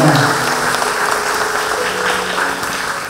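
A congregation at a Catholic thanksgiving Mass applauds to welcome a nun, a steady, moderately loud wash of clapping heard throughout in a reverberant church.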